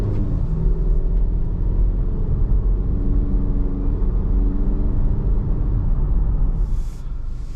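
A 2023 Audi Q3 cruising on the road, with a steady low rumble of engine and tyre noise filling the cabin, continuous and even from start to finish.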